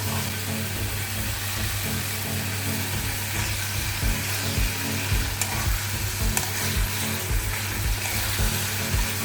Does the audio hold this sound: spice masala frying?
yes